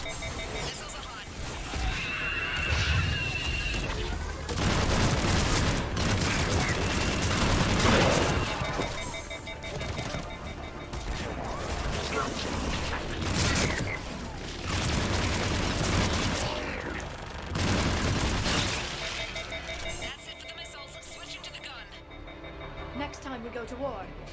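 Missile strikes and gunfire in Mass Effect 3, with repeated bursts of shots and heavy impacts in waves over about twenty seconds, voices talking in between amid a busy battle din.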